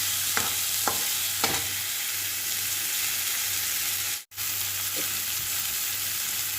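Black cumin seeds sizzle in hot oil as a tempering for a boal fish curry, a steady close crackling hiss with a few faint clicks from the pan and no talking.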